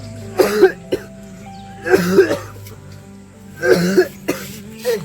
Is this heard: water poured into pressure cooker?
no